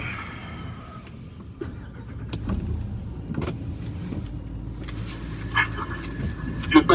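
A car drives slowly through Hurricane Ida conditions with a low, steady engine and road rumble, faint creaks and knocks, and brief gusty rustles near the end.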